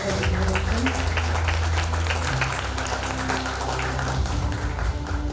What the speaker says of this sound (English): I think a round of applause to all the panelists for their presentation.